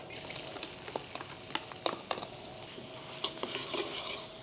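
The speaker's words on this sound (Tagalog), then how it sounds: "Magigisa lang tayo. So, sa kawali, maglalagay lang tayo ng konting mantika. Tapos, magigisa tayo ng sibuyas." Sliced onions sauté in a little oil in a kawali, making a close, continuous crackling sizzle. A utensil clicks and scrapes against the pan throughout, and the frying swells louder toward the end.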